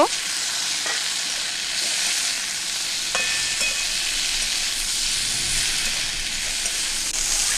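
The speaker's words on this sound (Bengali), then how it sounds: "ঢাকা দিয়ে দিয়ে ভালো করে ভেজে নেব, ভালো করে কষিয়ে নেব।" Mixed vegetables with cumin and chili powder fry in hot oil, producing a steady loud sizzle and hiss close by, broken now and then by faint scrapes of stirring, with no voices throughout.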